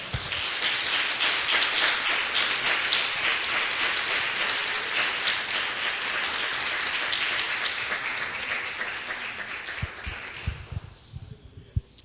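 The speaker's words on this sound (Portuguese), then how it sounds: "Você podia dar até uma salva de palmas para ele" A church congregation at a family worship service applauds together, a dense sustained clapping that holds for about ten seconds before thinning into a few scattered claps.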